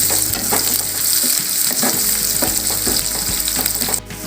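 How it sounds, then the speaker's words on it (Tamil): Thinly sliced onion sautéing in a hot pan for hotel-style salna, a steady loud sizzle with occasional stirring scrapes, close up, no voices. "சேர்த்துட்டு இதை ஒரு 2 நிமிஷம் நம்ம வதக்கிக்கலாம்."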